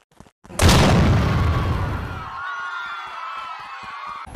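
A bomb blast in the sandbox video game Simple Sandbox 2 goes off as one loud, sudden boom with a long, roaring decay. A ringing, whining tail follows for several seconds, and nobody talks.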